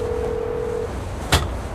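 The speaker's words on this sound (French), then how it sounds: "Téléphone, appelle Sanchez." A car phone dialing: a steady electronic tone holds for almost a second, then a short sharp click or beep sounds over a constant background hum.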